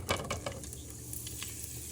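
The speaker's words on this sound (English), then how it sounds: "Now you want to start frying your chorizo," Chorizo, shallot and garlic frying in a pan, giving a steady close sizzle broken by a few stirring scrapes and clicks, with no one talking.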